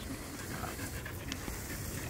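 A dog panting in quick, soft, steady breaths close by, continuous and fairly faint against a noisy room background.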